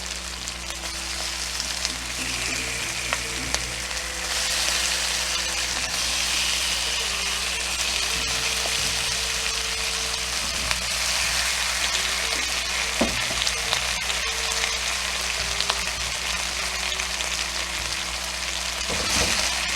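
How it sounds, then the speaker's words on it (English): Pieces of steak for a broccoli beef stir fry sear in a hot pan, a loud, dense, unbroken sizzle close up over a low background hum, with occasional faint clicks. "Now we're going to add our steak. Add our steak a little bit at a time."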